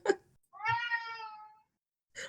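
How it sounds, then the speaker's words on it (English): A house cat gives one drawn-out, clear meow between short scuffling sounds, close by and fairly quiet, with no talk. "lots of meows back though"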